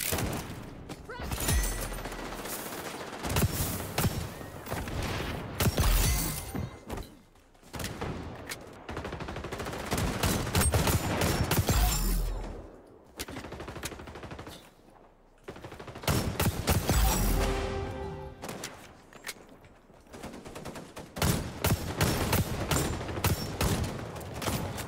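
Desert Eagle pistol fire in the video game XDefiant, heard as repeated loud sharp shots in bursts through a busy stretch of game combat, with other gunfire and brief quiet gaps between volleys.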